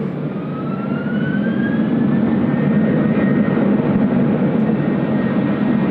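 A Qantas jet airliner bound for Melbourne roars steadily at full takeoff thrust on a single runway at Sydney Airport in a stiff headwind, loud and sustained, with a rising engine whine and no speech.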